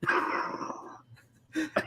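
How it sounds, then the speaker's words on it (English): A single short burst of coughing, close and fairly quiet, followed by a pause and a couple of brief breathy catches. "I can't laugh too hard. I'm going to have a coughing fit."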